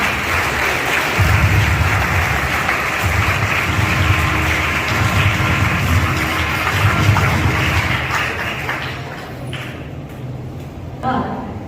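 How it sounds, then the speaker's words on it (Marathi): Sustained applause at a school annual prize distribution ceremony for prize-winning students, a steady broad wash of clapping that slowly thins toward the end, with some voices mixed in. "स्वतःसाठी व आपल्या शालेय मित्रांसाठी जोरदार टाळ्या वाजवून अभिनंदन करा"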